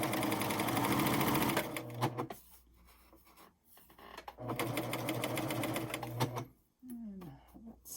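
Pfaff Admire Air 7000 sewing machine stitching cording, a close steady whirring run that stops, starts again for a second run, then ends with faint handling noises.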